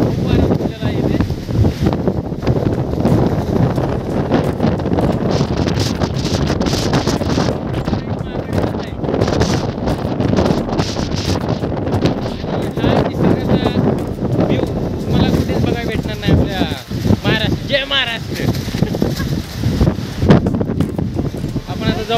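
Strong gusting wind buffets the microphone at Matheran hill station, a loud continuous roar throughout with a voice talking underneath.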